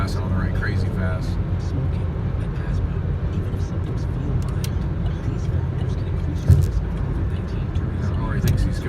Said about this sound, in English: this guy's passing on the right crazy fast